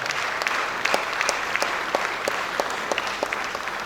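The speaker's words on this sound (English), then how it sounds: "Please a round of applause for her." Applause from an audience at a Lagos State University academic event, a continuous wash of clapping with a few sharper individual claps standing out, held steady for a few seconds without speech.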